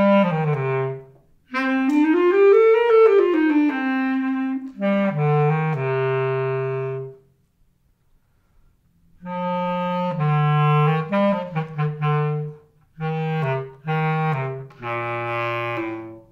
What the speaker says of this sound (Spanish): El sonido del clarinete bajo es un sonido más profundo